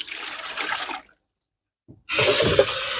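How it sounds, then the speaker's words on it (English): Water poured out of a wash basin in two gushes, a rushing splash that stops abruptly, a second of silence, then a louder, fuller pour; nobody speaks. "empty the basin"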